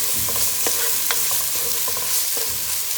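Finely chopped onion fries in hot oil for chana masala, a steady loud sizzle broken by a few sharp clinks of a spoon stirring the pan, with no voices.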